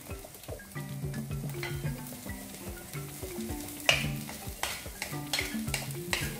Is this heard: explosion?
no